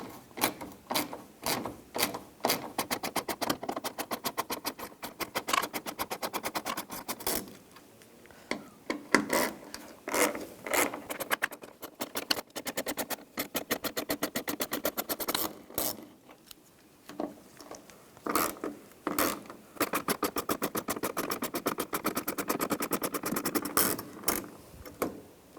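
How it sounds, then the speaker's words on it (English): A T20 socket on a hand ratchet works the three fuel pump cover screws loose on a 2011-2018 Ram 1500 3.6L, producing rapid clicking ratchet bursts repeated in quick spurts with short pauses, close by and without speech. "Take these 3 screws out. We're going to use a T20 socket."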